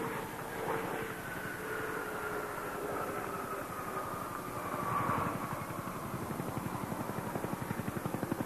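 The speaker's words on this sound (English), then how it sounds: "Discovery rolling out on runway 15 at the Kennedy Space Center's shuttle landing facility" Space Shuttle Discovery rolling out on runway 15 at the Kennedy Space Center shuttle landing facility after landing, a loud, steady rumbling roar with a faint whine, rising slightly mid-way and carrying a rapid pulsing flutter toward the end.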